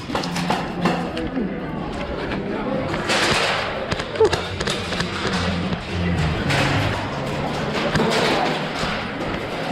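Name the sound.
airsoft gunfire during a game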